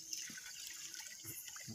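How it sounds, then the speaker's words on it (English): Water trickles from a small spring in the bush, a close, steady, bubbling dribble with occasional soft splashes, heard alone without talk. "So we have a small springs here where we get water, man."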